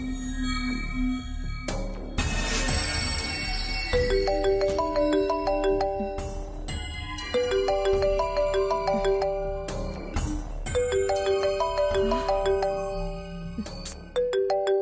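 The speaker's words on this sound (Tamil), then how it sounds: "உன் ஃபோன் அடிச்சுக்கிட்டே இருக்கு" A mobile phone ringtone plays a bright, repeating electronic melody of chiming tones, loud and close, running continuously with short gaps between phrases and no speech.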